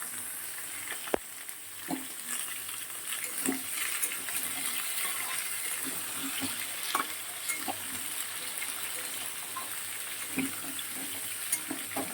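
Chopped greens and vegetables frying in oil with panch phoron for a fish roe dish, a soft continuous sizzle with occasional spatula knocks and scrapes against the pan, close but quiet, with no talking.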